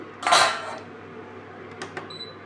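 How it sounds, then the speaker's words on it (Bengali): Metal lid lifted off a cooking pot of lentil fritters in mustard sauce, a single close clattering scrape followed by a couple of faint light clinks, with no talking. "ঢাকাটা উঠাবেন"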